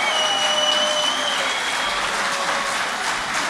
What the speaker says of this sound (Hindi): मैंने आपकी तालियों का एहतराम किया